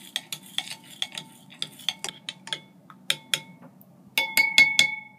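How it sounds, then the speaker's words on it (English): A spoon stirs salt into water in a glass or cup, giving quick bright clinks and scrapes in uneven bursts, close and clear, with a faster run of ringing taps near the end. "Now stir the salt up until it is not visible in the water anymore."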